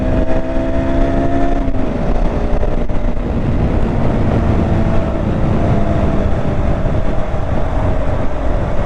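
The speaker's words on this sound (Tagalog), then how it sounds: "kapag ka hindi ka naglilipat ito oh, gigil na gigil ang makina" A loud, strained 2019 KTM Duke 200 motorcycle engine held at high revs without shifting, droning steadily with a rising, whining pitch, close up and continuous.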